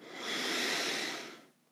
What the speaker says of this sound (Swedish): Ta så ett djupt andetag in.